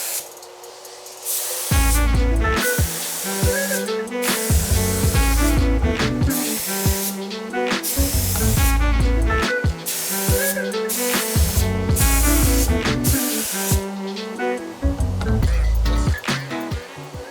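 An HVLP spray gun sprays wood finish onto parchment paper in repeated short bursts, each a loud broadband hiss with a low hum beneath, separated by brief pauses.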